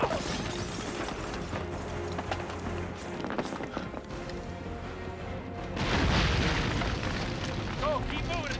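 A grenade goes off in a tunnel during a TV action drama, a loud boomy blast rising near the end amid hurried movement, shuffling and scattered impacts, with tense background noise throughout.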